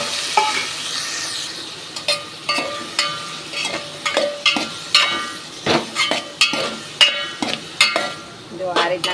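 Vegetables sizzle and fry in a pan after cumin seeds are tempered, with a spoon or spatula repeatedly clinking and scraping against the metal in an irregular rhythm over a steady hiss.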